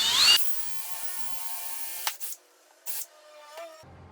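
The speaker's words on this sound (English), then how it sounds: "I'm simply going to use my cordless and go through and make sure that I don't drill through my workbench." A cordless drill bores through a wooden garage shelf above a workbench in a short steady whir of about two seconds. A few brief bursts follow as the bit breaks through and the trigger is released.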